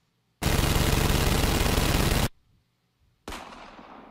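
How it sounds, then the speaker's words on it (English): Loud burst of sustained automatic-sounding gunfire lasting about two seconds, then a brief pause and a second, fading burst or blast; no talking over it. "Take cover, they're going to open fire!"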